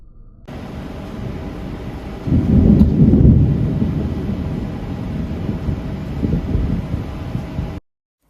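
Thunder from a nearby lightning strike during a night storm, a loud rumbling roar that swells a few seconds in and slowly rolls on before cutting off.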